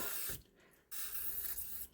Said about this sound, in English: I'm going to give this a spray.